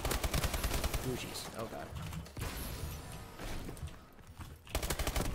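Rapid gunfire bursts from Call of Duty: Advanced Warfare multiplayer, dense and loud, with a voice exclaiming over the shooting.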